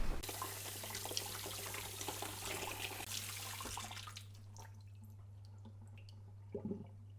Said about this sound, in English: And then warm water.